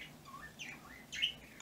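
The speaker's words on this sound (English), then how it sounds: "Birds are going to start being loud again." Birds chirping and tweeting in the background during quiet indoor stitching, a few short calls with a brighter burst toward the end, fairly faint and with no talk.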